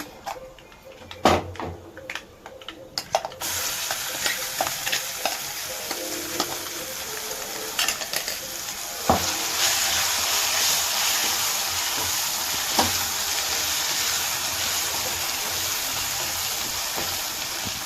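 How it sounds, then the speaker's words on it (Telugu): Curry leaf tempering sizzling steadily in a pan as eggplant and cucumber chutney is stirred in, with a sharp burst of frying at the start and continuous close hiss throughout, no talk. "తాలింపు వేగిందండి. ఇందులో కొంచెం చట్నీ వేసేసుకున్నాము."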